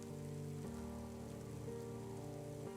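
Steady rain falls in a dark narrated horror story, a continuous dense patter on a surface, with a low sustained musical drone beneath it and no voices.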